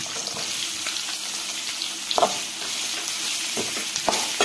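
Chopped onions and green chillies sauté in a pan for girmit, a close, continuous sizzle and frying hiss with a few soft clinks of a spoon stirring, no voices over it.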